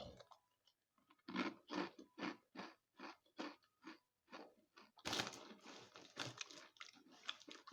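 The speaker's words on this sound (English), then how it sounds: "They are crunchy and they are cheesy" Crunchy, cheesy Crunchy Max snacks being chewed up close, a steady series of loud crisp crunching bites in a regular rhythm, growing denser toward the end, with no talking.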